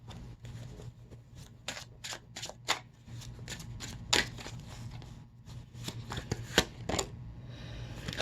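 Tarot cards being shuffled by hand, a quick series of soft riffling slaps and flutters in irregular bursts, close and fairly quiet, with no talking.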